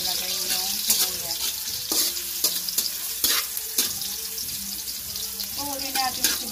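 Ginger fries and sizzles in a pan and is stirred until brown, for dinuguan. The sizzle is a steady broadband hiss with regular scraping stir strokes, close up, and running water is audible at times.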